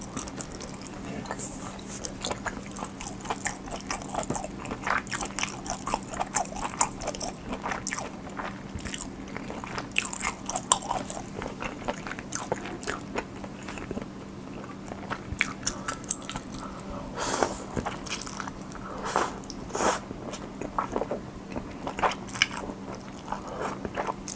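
Close-up chewing and crunching of Nongshim's new cold ramen noodles, with a steady run of small bites and slurps over a low constant hum, no talking.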